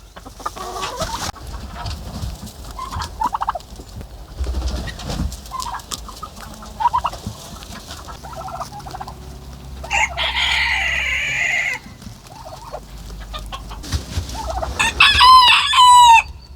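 Chickens cluck and a rooster crows in a snowbound barn where turkeys are also kept, with busy overlapping fowl calls throughout and a loud crow near the end.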